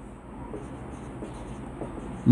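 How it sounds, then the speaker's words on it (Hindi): Faint, soft scratching of writing runs steadily through a quiet room during a lesson on matrices, with no clear speech in the stretch. "मैं यहां पे लिख रहा हूं ए स्क्वायर"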